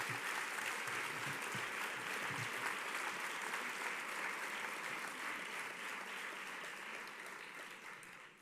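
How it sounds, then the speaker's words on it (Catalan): A gala audience at the Culturàlia awards in Tàrrega gives sustained applause, a dense, even wash of clapping from many hands that holds steady and fades slightly toward the end, with no voices over it. "als quals demano un fort aplaudiment"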